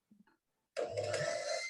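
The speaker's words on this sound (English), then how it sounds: "Then I'm going to whisk it again for 30 seconds." An electric whisk mixes a strawberry puree mixture in a mixing bowl, kicking in suddenly with a steady motorized whir that holds loud and constant after a moment of quiet.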